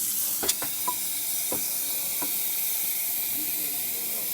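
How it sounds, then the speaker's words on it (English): A repaired Quick Mill espresso machine's steam wand, formerly weak and clogged, releases a steady airy hiss of steam, with a few sharp clicks and knocks near the start, heard up close. "So now we have a good consistency of steam"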